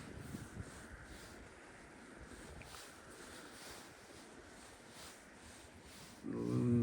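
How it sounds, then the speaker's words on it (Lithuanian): Quiet, steady wind noise and a low rumble of water around a boat, with soft gusts buffeting the microphone; a louder thump near the end. "bet iš tikrųjų tai toks nemalonus tas vėjas"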